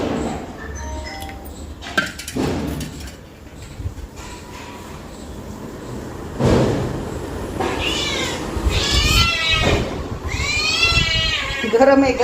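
A house cat meows for milk in a kitchen; several drawn-out, rising meows come near the end over household clatter and someone speaking.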